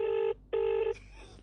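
A telephone ringback tone while a call connects, two clear electronic buzzing rings with a short gap between them, followed by a faint click and hiss on the line.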